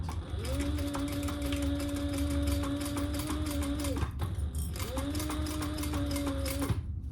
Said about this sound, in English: we're gonna sew this together at the seam allowance in the pattern